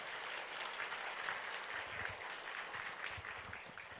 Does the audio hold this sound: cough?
no